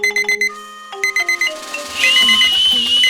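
An alarm clock rings at midnight: a rapid, repeating electronic beeping pattern, loud and close, that then dissolves into a brighter swirling musical jingle, with no talking.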